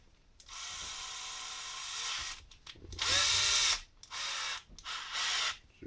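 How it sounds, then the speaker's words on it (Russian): A cordless screwdriver spins a hose attached to an engine valve to lap it against its seat. It whirs close by in four separate bursts of a few seconds each, with short pauses between them. "За этот шланчик цепляем шуруповерт."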